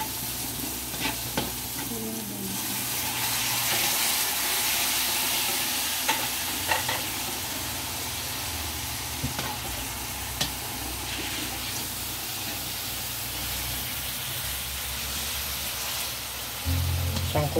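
Pork frying in a pan while being stirred, a steady loud sizzle with occasional scraping and clanking strokes, ending in a sudden louder burst of sizzling, with brief talk.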